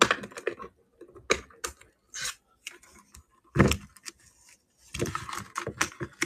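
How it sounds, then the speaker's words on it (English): Trading cards being shuffled and handled, giving crisp, irregular bursts of papery clicking and flicking separated by short pauses, close by with no talking. "It's like shuffling cards over here."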